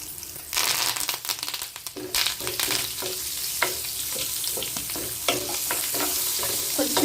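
Cumin, mustard seeds and urad dal hit hot oil with garlic for a drumstick-leaf chutney tempering, giving a steady loud crackling sizzle with sharp popping bursts throughout, no talking.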